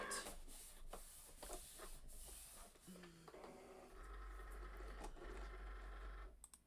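A Cricut cutting machine works through paper for Halloween cupcake toppers, whirring and clicking in short motor runs and carriage moves, then a steadier mechanical drone; fairly quiet, with no talking.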